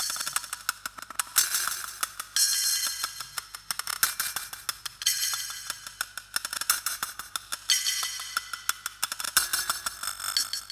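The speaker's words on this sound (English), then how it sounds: "It's a cool little sort of glitchy sound and very metallic." A glitchy, metallic percussive loop on a Synthstrom Deluge, treated with reverb and delay, repeats in a busy clicking and rattling rhythm. Bright noisy bursts recur in cycles, with no voices.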